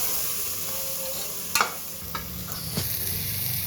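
Rice being mixed by hand with chili powder for prawn biryani: a soft, continuous rustle of grains broken by a few sharp scrapes and taps.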